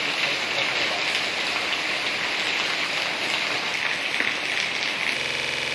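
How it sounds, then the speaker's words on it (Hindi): Heavy rain pours down in Chandil, India, a dense, loud, unbroken hiss of drops on surfaces lasting throughout, with no talking. "करीब 1 सप्ताह बाद चांडिल में तेज बारिश हुई"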